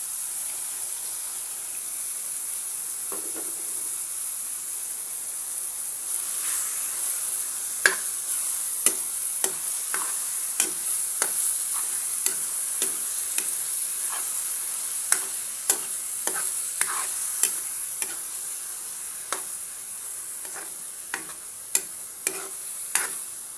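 Elephant foot yam is stir-fried with shrimp paste in a pan, a steady sizzle running throughout while a utensil scrapes and taps the pan in irregular clicks that grow more frequent in the second half.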